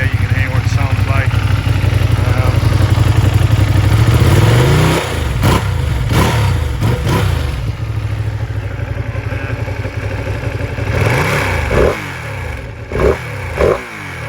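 A Ducati Panigale V2 motorcycle with an aftermarket exhaust kit, heard close and loud at a rumbling idle, then blipped through several sharp throttle revs whose pitch rises and falls quickly, with a voice talking over parts of it.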